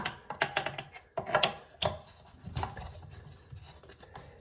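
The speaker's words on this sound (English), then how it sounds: "And then I'll just go back and forth from side to side, getting it evenly tightened" Metal hex-head tool tightening the bolt nuts on a new toilet's base, heard as a series of close, sharp ratcheting clicks and scraping rubs in bursts, quieting toward the end.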